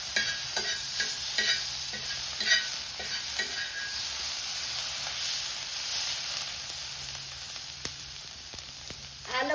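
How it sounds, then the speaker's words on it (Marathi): Garlic frying in oil in a pan on a wood-fired village stove, a continuous close sizzle broken by repeated scraping stirs and light utensil taps. "लसूण टाकणार आहे तळण्यासाठी तेलामध्ये."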